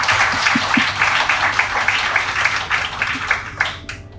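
An audience at a formal dinner applauds Olympic medalists with a short burst of quick, dense clapping that gradually thins out.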